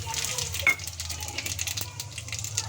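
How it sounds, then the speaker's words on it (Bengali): Whole spices (bay leaf, cinnamon, cardamom and cumin) sizzle in hot oil in a kadai, a steady close hiss and crackle with faint stirring. "এখন আমি ফোড়ন দিয়ে দিচ্ছি তেজপাতা,"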